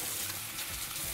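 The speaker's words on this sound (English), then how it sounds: "So, in goes my chicken. And we're just looking for that to sort of brown up." Chicken pieces frying and browning in a hot pan give a steady, close hiss and sizzle with faint crackle throughout, with no talking.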